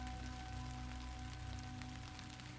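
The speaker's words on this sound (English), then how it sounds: "The rain making small soft sounds on the shoulders of his coat." Soft steady rain pattering on a surface, a continuous gentle hiss with a faint low hum underneath, heard alone with no talk.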